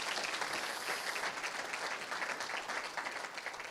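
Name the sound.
applause for the programming committee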